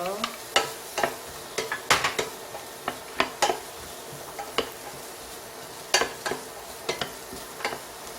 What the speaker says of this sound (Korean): 버터가 녹으면 먼저 양파를 엮어 볶아주세요. 그리고 당근도 넣어줄 거예요.